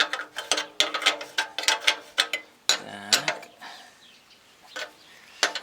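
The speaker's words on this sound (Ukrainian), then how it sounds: "використовується ключик гайки на 12, ключ на 19. Ми відпустимо нижню частину." A wrench loosens a nut on a walk-behind tractor while its handlebar height is adjusted. It makes close, irregular bursts of sharp metallic clicks and ratcheting, with short pauses and no talking.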